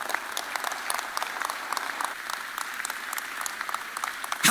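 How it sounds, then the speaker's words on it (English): A church congregation at an apostolic prophetic conference claps hands together in steady, sustained applause, a dense wash of claps continuing evenly throughout. "You can clap your hands."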